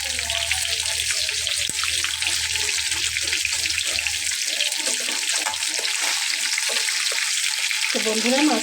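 Hilsa fish fries in oil in a pan with a continuous close sizzle and hiss, while a low hum sounds beneath it for the first half and a voice briefly comes in near the end.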